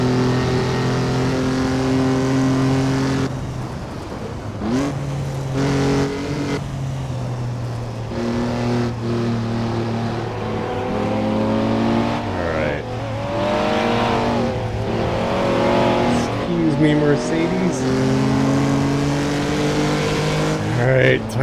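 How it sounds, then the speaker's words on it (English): Jaguar C-Type racing in Assetto Corsa, its engine revving loud and near through shifts with rising and falling pitch sweeps, a few sharp backfire pops breaking in, and a voice talking over parts of it. "Oh, I love that backfiring noise."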